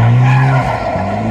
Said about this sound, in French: Et là, ça drift.